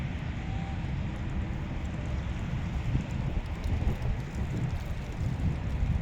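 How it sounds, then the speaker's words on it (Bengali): Wind blows outdoors, a cool breeze rumbling and buffeting against the microphone in a steady low roar that swells and eases throughout, with no talk. "বাতাসের শব্দ পাইতেছেন কিনা জানি না"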